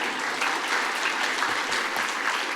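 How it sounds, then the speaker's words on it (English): Applause from a conference audience at an algal blooms science meeting, a short burst of steady, dense clapping from a roomful of people. "he gets a second round of applause"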